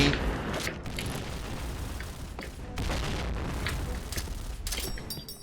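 A grenade explodes in a sniper first-person shooter game, a dense booming blast followed by rumbling gunfire-like bursts and noisy battlefield din over several seconds.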